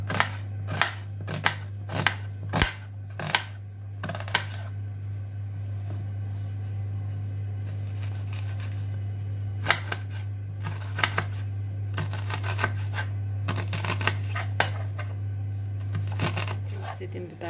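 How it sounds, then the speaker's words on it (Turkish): An onion is chopped with a knife in a home kitchen, with irregular crisp taps against a board over a steady low hum from the stove. "Hemen soğanımızı doğrayalım."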